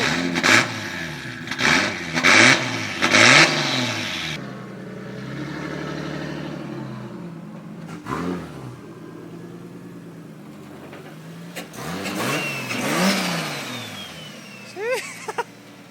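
Loud 500 hp 2JZ-engined Nissan S14 revving in sharp repeated bursts, then idling, with more revs and rapid popping two-step stutters near the end.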